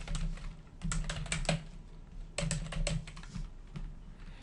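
Rapid keystrokes on a computer keyboard while credit card payment details are entered, clicking in two quick bursts with a short pause between, close and clear with no talk.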